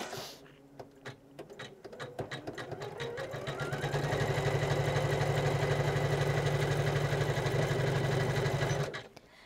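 An embroidery machine stitches a scented sachet: a few scattered clicks give way to a rising, rapid mechanical chatter that holds steady and close for several seconds before cutting off, with no voices.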